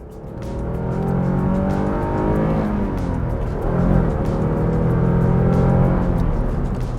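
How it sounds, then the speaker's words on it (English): A Maritime Blue Porsche 944 S2 with a 5-speed manual and 239 horsepower drives along, its engine a loud, steady, close drone that rises gently and then settles, with no talking over it. "You know, the car just runs great."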